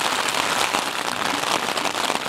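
Heavy rain drums steadily on a tent in windy, wet weather, a dense, even patter close overhead with no voices.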